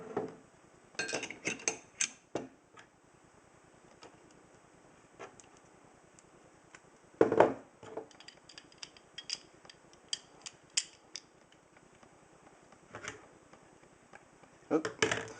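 Slides of a Glock 36 and a Springfield XD40SC pistol are put back together at close range: sharp metallic clicks, clacks and snaps come at irregular intervals, with quiet stretches between them and faint talking underneath.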